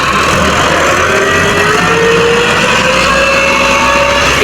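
An excavator works at a dig site in a village, its engine droning loud and close in a steady roar with a slowly rising whine, running continuously.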